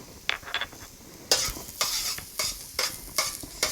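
Garlic stir-frying in hot oil in a wok for a Khmer vegetable dish, with repeated sharp scraping strokes of a spatula over a constant hiss and sizzle, close and fairly loud.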